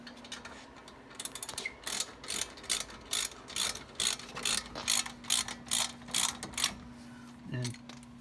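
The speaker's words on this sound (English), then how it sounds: "I'll just come in and pull on it. This is a big wrench." A large 16 mm wrench ratchets a bolt during repairs on a 2000 Mustang GT, giving a close, quiet series of rhythmic clicking bursts, roughly a dozen strokes in steady succession.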